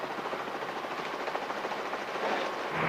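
A helicopter flying landing practice gives a steady, close rotor and turbine roar with a constant broadband rush that swells a little toward the end. Nobody speaks.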